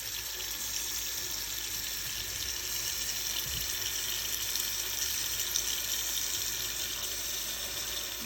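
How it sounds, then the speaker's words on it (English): Tap water running steadily into a pan of apples, a continuous close splashing rush that holds an even level from start to finish with no talking over it. "I'm going to add a little bit of water just up to about equal where the apples are in the pan"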